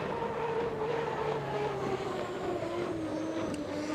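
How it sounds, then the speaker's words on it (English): The U40 Bucket List Racing hydroplane makes a flyby at Guntersville Hydrofest, its engine a distant, sustained roar that drops slowly in pitch as it passes. "Dustin says, I'll give you one more flyby, Guntersville."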